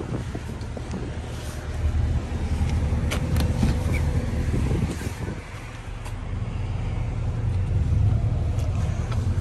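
A 2006 Jeep Wrangler X with the 4.0L engine and six-speed manual runs steadily under the hood, a continuous low rumbling drone close to the microphone with some wind buffeting over it.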